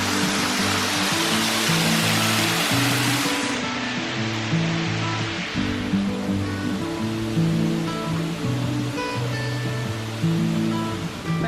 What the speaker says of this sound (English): So this is the Moore's waterfall.